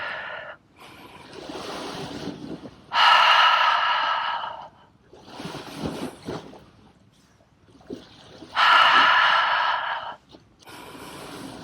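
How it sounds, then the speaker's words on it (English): Slow deep breaths during a sunrise qigong routine, drawn in through the nose then pushed out through an open mouth, loud close airy inhale-exhale cycles repeating about every six seconds. "Inhale through the nose. Open mouth, exhale."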